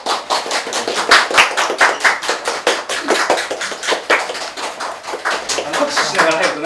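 Dense applause of many hands clapping steadily at a Japanese video game launch-eve event, fairly close and loud, with no voices standing out over it.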